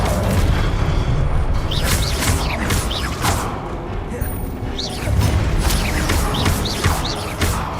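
Incendio fire spell being cast repeatedly in the video game Hogwarts Legacy: several sharp whooshing bursts and crackling impacts over a loud rumbling bed, with mechanical clanks and faint voices underneath.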